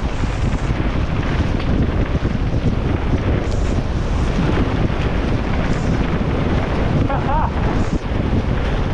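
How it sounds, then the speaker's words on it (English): Heavy wind buffeting the microphone while mountain biking at a bike park, a constant loud roaring rumble throughout, with faint voices underneath. "Gee, it's windy on there."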